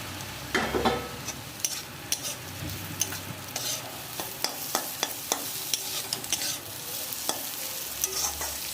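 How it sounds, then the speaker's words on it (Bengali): Prawns fry with spices in a pan, a steady sizzle under repeated sharp scrapes and clinks of a spatula stirring, close to the mic with no voices. "এবার চিংড়ি মাছটা দিয়ে দেবো"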